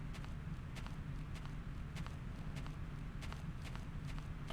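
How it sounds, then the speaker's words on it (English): A dinosaur-like creature walking through grassy plains in the video game Trespasser: faint, regular heavy footfalls repeat steadily over low background ambience, with no clear snorts. "I can hear your footsteps and your snorts."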